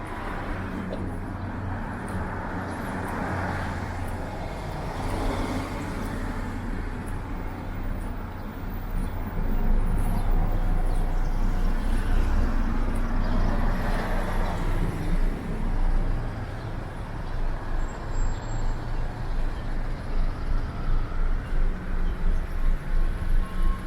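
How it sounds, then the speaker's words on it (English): Busy city street traffic on Church Street in Toronto, a steady roar of passing cars and vehicles swelling louder as they approach, continuous and fairly close, with no talk. "lots of traffic"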